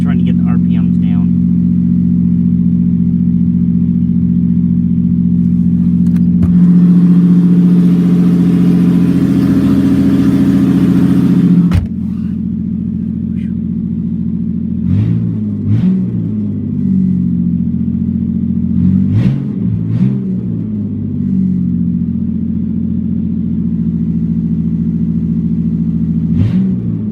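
A 1997 Toyota Avalon engine with open exhaust manifolds idles loudly while warming up, a steady low rumble with a brief swell in the middle and several short revs near the end.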